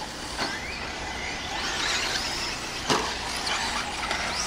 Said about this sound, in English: Richard Lewis just in cruise control, looking smooth as ever out there in that short course truck